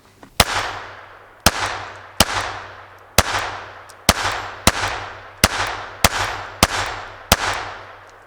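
Nine sharp, evenly spaced gunshots from a Ruger SR22 pistol firing CCI Mini Mag 40 grain .22 rounds, each crack close and loud with a short ringing decay, about one per second and no talk.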